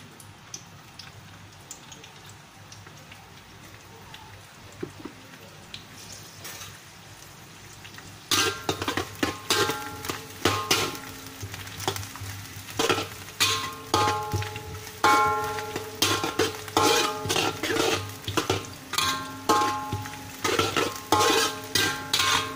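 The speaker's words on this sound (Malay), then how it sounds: "Kita tumis bawang putih, bawang" Garlic and onion sauté in a pan, starting with a faint low hum before loud, irregular clatters of a spatula scraping and stirring take over, mixed with a light crackling sizzle.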